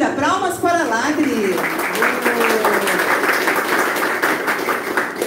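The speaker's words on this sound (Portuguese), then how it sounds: "Palmas para Ladri." Audience at an Indian cultural evening clapping to welcome an Odissi dancer, a steady patter of many hands that follows a speaking voice at the start and carries on with scattered chatter.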